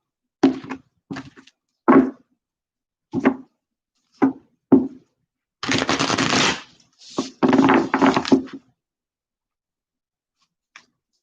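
Tarot cards are shuffled in a series of short riffling bursts with quiet gaps between, then one longer rapid shuffle, close and fairly loud.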